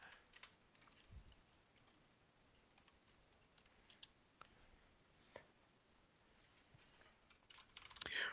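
Computer keyboard typing, quiet and close, irregular clusters of key clicks with short pauses between bursts during a gaming podcast.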